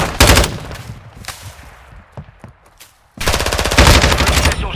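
Loud automatic gunfire rattles in rapid bursts in Call of Duty: Modern Warfare II, with a sustained volley, a few scattered shots in a lull, then another long, dense burst.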